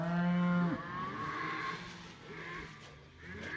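A single long, loud moo from a well-fed grazing cow in a lush pasture during a cattle drive, close by, trailing off into low field noise and faint lowing.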